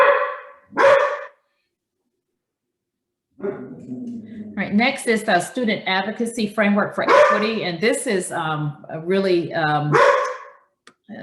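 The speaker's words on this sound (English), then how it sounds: "I'm sorry about my dogs barking." Dogs in a home bark and yelp in a couple of sharp bursts at the start, then go quiet while a person speaks at length during an online board meeting.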